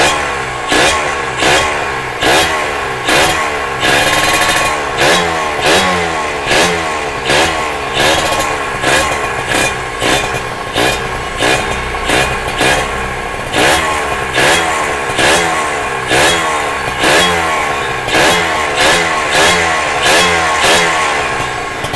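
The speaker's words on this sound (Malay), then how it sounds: "Tapi kalau kita dengar dia punya bunyi enjin ni kan," Kawasaki ZX motorcycle engine runs loudly up close, blipped into sharp, evenly repeated revs roughly every second over a steady idle rumble, with no talk.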